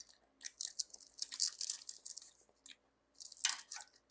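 Someone chews a crunchy pakbet vegetable dish right at the mic, producing rapid crisp crunching bites in two bursts separated by a brief quiet gap.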